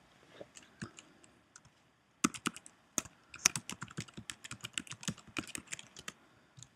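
Password being typed on a computer keyboard during an email login: a few scattered key clicks, then a brisk, close run of rapid tapping that continues steadily to the end, with no voices.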